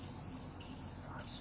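Spray paint hisses steadily and faintly onto a car's rear fender, a continuous airy stream with a couple of brief sputtering bursts.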